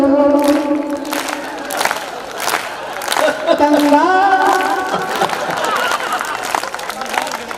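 An audience at a Hindi kavi sammelan poetry recital claps and cheers in bursts, with crowd noise and a voice speaking and chanting over the applause.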